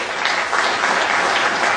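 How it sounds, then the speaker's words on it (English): Steady, dense applause from a gathered audience at a Workers Party event in Belfast, filling the whole stretch at an even, moderately loud level without pause. "Thank you very much for your applause for Paddy."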